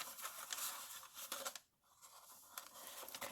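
Paper and cardstock handled and creased while being folded into a paper purse gift box, with close, dry rustling and scraping that drops briefly to near silence midway before resuming.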